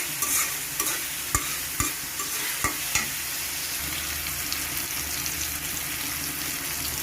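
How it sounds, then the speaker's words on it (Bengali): Green chillies sizzle steadily in a hot pan while being stirred for a goose curry, with sharp utensil scrapes and knocks against the pan at irregular intervals over the continuous close frying hiss. "কাঁচামরিচ দিয়ে দিলাম ভালো নাড়াছাড়া করে নেবো"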